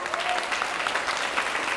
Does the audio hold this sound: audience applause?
yes